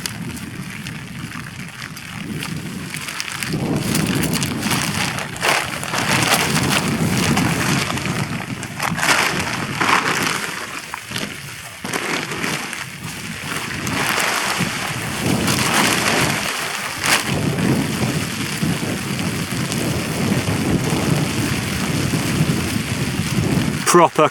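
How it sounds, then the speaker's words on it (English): Heavy rain pours steadily on a camping tent with occasional deep thunder rumbles, a dense, continuous wash of sound throughout. "this rain isn't showing any signs of slowing down"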